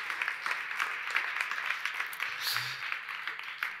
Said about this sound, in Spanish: Fuerte aplauso para ti también.